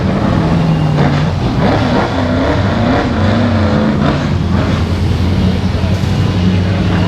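Car with a throaty engine at the Adelaide Motorsport Festival, a loud rumbling idle with revs rising and falling, close by amid crowd noise and some talk.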